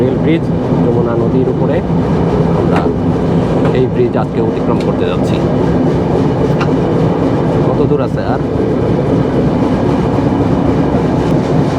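A loud, steady rumble of the Chitra Express train crossing the new Jamuna river rail bridge at high speed, with rhythmic clattering of wheels on track, continuous and close, with people talking over the noise.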